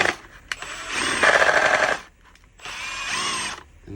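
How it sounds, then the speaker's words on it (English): A small metering valve part from a blast-media Schmidt Thompson valve spun quickly against sandpaper held on a leg, giving two bursts of whirring, grinding buzz separated by a short pause, close and moderately loud. "I'll push it onto the sandpaper and let it just spin really quick"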